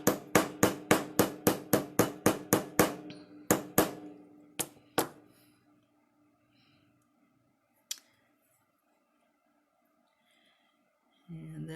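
Hammer blows drive rivets into leather, about a dozen sharp strikes in steady quick rhythm, then a few spaced hits, a lone tap, and a quiet stretch before a low bump at the end.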